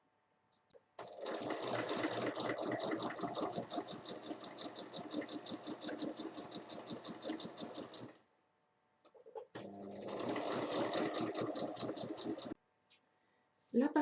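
A sewing machine runs a topstitch 5 mm from the top edge of a pinned pocket on a large fabric bag, with two steady bursts of rapid mechanical stitching separated by a short pause, close and fairly quiet.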